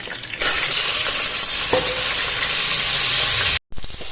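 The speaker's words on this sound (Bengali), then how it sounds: "এবার এই আলুগুলোকে আমি লাল করে ভেজে নিব" Diced potato pieces frying in hot oil in a wok, a loud, steady sizzle that carries on evenly, briefly cut off near the end before resuming.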